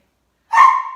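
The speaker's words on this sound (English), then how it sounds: "Pardon, that's my dog." A pet dog gives a single sharp bark indoors after a moment of silence, loud and close.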